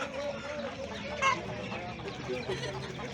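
Chickens cluck steadily amid a busy, noisy poultry market in Sungurlu, Turkey, with voices and general bustle mixing in around the birds.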